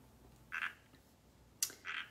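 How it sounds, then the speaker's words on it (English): Frogs call in two short, bright croaking bursts about a second and a half apart, with a sharp click between them, fairly quiet against a low background hum and no talking. "Frogs. Can you hear my frogs, guys?"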